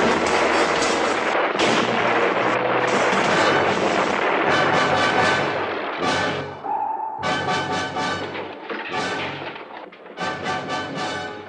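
Submarine missile launch sound effect from a 1960s sci-fi TV series, loud booming blasts and roaring rushes in several bursts with brief pauses, dense and close, no speech.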